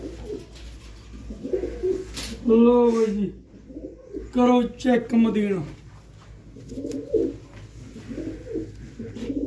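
Red-spotted pigeons coo in soft, throaty bursts close by, overlapping with someone talking.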